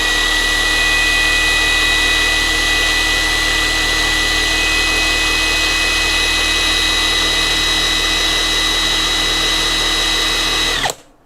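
A KAMOLEE DTW285 cordless impact wrench with a socket fitted runs steadily and loudly for about eleven seconds with a constant motor whine, then cuts off abruptly at the end.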